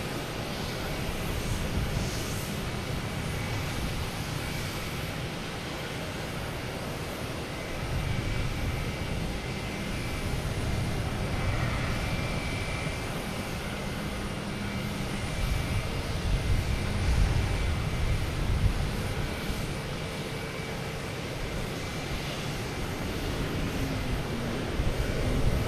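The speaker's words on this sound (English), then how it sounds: "Iceland Air coming around the corner here" An Icelandair airliner taxis at Boston Logan Airport, its engines giving a steady, broad roar that holds at an even level throughout, with no talking.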